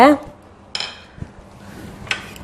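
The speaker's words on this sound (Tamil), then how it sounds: "அதுலேயே இந்த 15 சின்ன வெங்காயம் உரிச்சு வச்சுருக்கேன் இல்லையா, அதை போட்டுக்கிறேங்க." Peeled small shallots dropped into a pressure cooker with toor dal for sambar, a few sharp clinks and light knocks against the metal pot, close and isolated with quiet pauses between.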